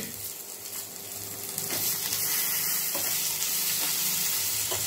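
Garlic and tamarind frying in a pan for pachadi, a steady sizzle and crackle that grows louder partway through, with occasional stirring clicks.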